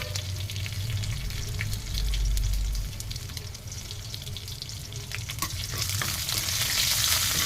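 Mustard seeds, chana dal and dried red chilies crackle and sizzle in hot tempering oil, stirred now and then, a steady close frying hiss with no talk.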